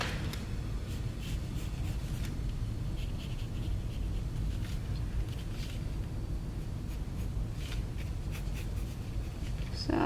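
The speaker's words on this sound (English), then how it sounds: "So I'm sketching out what I want it to look like." A pencil sketches a two-point perspective drawing on paper, with soft, continuous scratchy strokes close by, steady and fairly quiet throughout.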